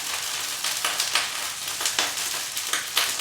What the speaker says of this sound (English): you want to hear that sizzle up like that